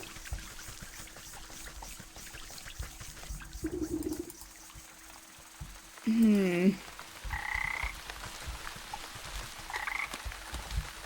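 Frogs croak in the video game Wytchwood, a few short croaking calls rising out of a steady ambient game soundscape, moderately loud and alone without talk.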